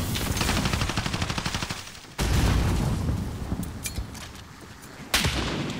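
Assault rifle fire in Call of Duty: Modern Warfare multiplayer: loud, close, rapid automatic bursts with sharp onsets, broken into about three strings of shots.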